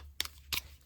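Scissors make two quick, faint crisp snips about a third of a second apart, close by in an otherwise quiet room.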